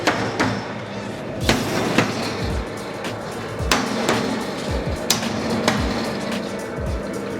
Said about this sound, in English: now we're going to go ahead and hammer these pieces back in